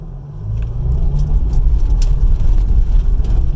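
Jeep Cherokee (Liberty) CRD diesel pulling away from a standstill on a track, a steady low engine rumble that builds slightly and holds close and loud, with no talk.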